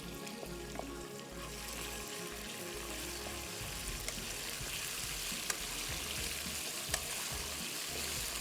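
Chicken and garlic sauté in a hot pan, giving an even, continuous sizzle with a few light clicks of stirring. It sounds close and moderately quiet, with no talking.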